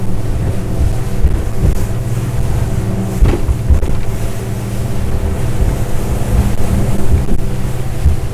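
A twin-engine Jeanneau Cap Camarat 9.0 motorboat runs steadily at sea, its engines a continuous low drone under rushing wind and water spray, loud and close from on board, with no talk.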